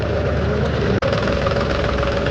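Several tractors moving in a procession for a Kalash yatra, a steady close diesel engine drone with a knocking mid-low rumble, continuous except for one brief dropout.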